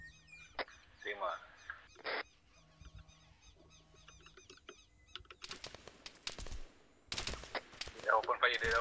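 Arma 3 gunfire arrives as quick bursts of sharp shots later in the scene, moderately loud, after stretches of squeaky radio-like chatter and electronic tones.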